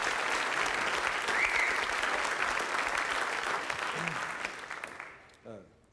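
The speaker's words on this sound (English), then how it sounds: "please give them a massive round of applause" A concert audience applauds jazz musicians at an International Jazz Day education event, dense sustained clapping mixed with a few cheers that fades out toward the end, followed by a brief voice.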